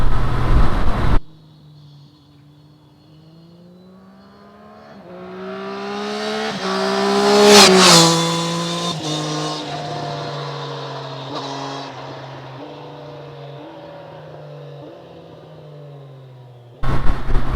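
Triumph Street Triple RS motorcycle from 2023 with rising and falling engine induction roar, building to a loud peak mid-clip then easing off through gear changes, heard alone without talk.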